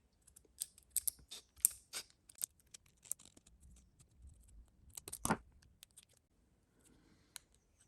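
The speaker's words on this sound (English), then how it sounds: "So now I'll just need to cut it out with the scissors" Scissors cutting out a paper template for a guitar truss rod cover, a series of sharp, close snips in an irregular rhythm, quiet between cuts and fading out at the end.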